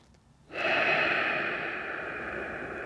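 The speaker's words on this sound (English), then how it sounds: "deep breath in" A long, deep breath in taken during a guided fascia and golf rotation exercise, a close, breathy hiss of air starting suddenly and held steadily for over two seconds.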